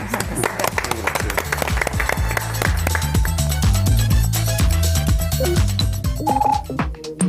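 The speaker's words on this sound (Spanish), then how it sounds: "Un aplauso para ustedes." Audience applause at the close of a Spanish-language television program on addiction and oncology services, a sustained, dense clatter of clapping that stays loud throughout, with a few sharper individual claps standing out near the end.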